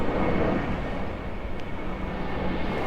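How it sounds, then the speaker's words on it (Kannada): An airplane passes close overhead, a steady broad engine roar that holds loud and even throughout, with no talk over it. "ನೋಡಿ ಫ್ಲೈಟ್ ಎಷ್ಟು ಹತ್ತಿರದಲ್ಲಿ ಹೋಗ್ತಾ ಇದೆ."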